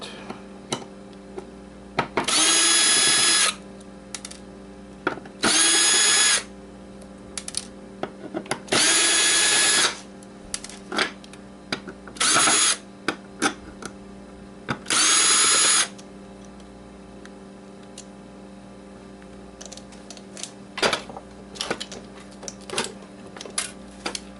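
A power drill runs in five separate bursts, each one to two seconds long, as Xbox hard drives are taken apart, with ticks, clicks and handling noises in the pauses between.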